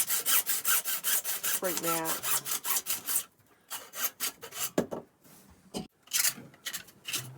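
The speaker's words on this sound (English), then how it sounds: "I've seen them use hacksaws like this." A hacksaw cuts through wood aboard a sailboat being fitted with holders for a gaff and boat hook, steady rasping back-and-forth strokes for about three seconds, then scattered rubbing and scraping under brief speech.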